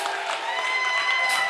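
A live anniversary show audience cheers and claps for a performer, a steady, dense wash of crowd noise with whoops, fairly close and continuous throughout.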